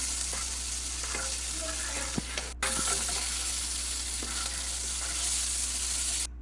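Chopped onions with a pinch of turmeric fry in a pan for rajma, a dense, constant close sizzle with occasional stirring taps and a short break partway through.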